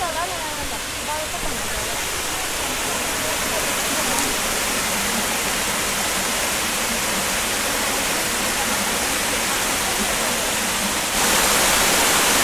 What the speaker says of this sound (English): There's the main attraction, there's the waterfall.